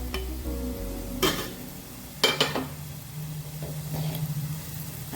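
Spice powders hit onions frying in a pan for an elephant yam masala, giving a low sizzle broken by a few sharp spoon-against-pan stirring clacks, close by and without speech.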